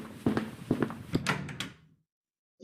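Radio drama sound effect of a basement door opening: a series of close wooden knocks and thunks, then a creaking, scraping swing that fades into silence, followed by the start of a voice.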